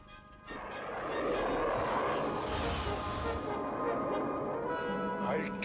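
A cartoon aircraft roars as it takes off in an animated Transformers episode, a loud rising jet-like whoosh that swells after a brief pause and holds steady, with a voice and an electronic tone near the end.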